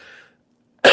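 A single sharp, loud cough bursts in abruptly at the very end after near silence, preceded by a faint trailing voice fading out.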